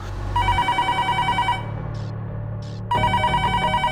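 A telephone rings close by in two rapid trilling bursts with a short gap between them.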